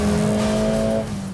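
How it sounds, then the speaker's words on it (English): A 2021 Mercedes-AMG A 45 S hot hatch roars loudly and steadily as it accelerates from 200 km/h, the tone holding high for about a second before easing off. "I just can't get over how it accelerates from 200."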